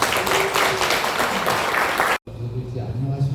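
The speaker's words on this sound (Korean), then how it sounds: "큰 박수로 환영해 주시기 바랍니다" A church gathering bursts into loud, dense applause welcoming a speaker; the clapping runs for about two seconds, cuts off abruptly, and is followed by quieter room sound with a low hum.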